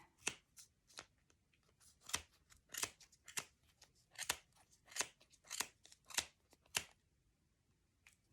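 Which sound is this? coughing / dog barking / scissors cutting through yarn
scissors cutting through yarn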